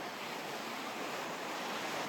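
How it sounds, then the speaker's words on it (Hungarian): The Humbó, a small mountain river in Tajikistan, rushes past close by with a steady, even roar of flowing water and no voices. "közvetlenül mellettünk itt folyik egy Humbó nevű kis folyó"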